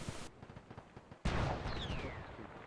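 Artillery fire in a video game: a sudden loud boom cuts in partway through, followed by a sustained rumbling roar and a faint descending whistle.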